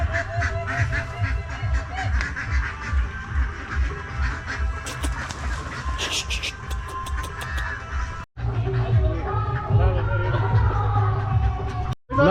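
Ducks on a rural roadside in Nepal's Terai plains honk and quack loudly and continuously, their calls overlapping in a dense, nearby chorus with a brief break near the end.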